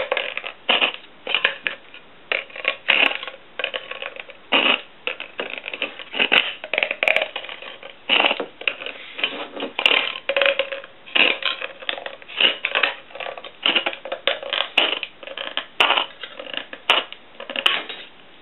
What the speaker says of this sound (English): I'm going to cut right on that line